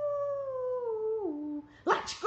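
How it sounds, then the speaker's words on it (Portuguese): A dog gives one long, falling howl that breaks into a whimpering whine, close and clear, followed by a short rustling clatter. "Olha só o cachorro."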